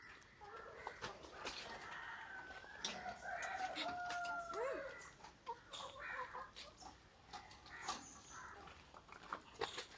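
Several chickens cluck and squawk close by, with a rooster-like call mixed in, irregular bursts overlapping against a busy background.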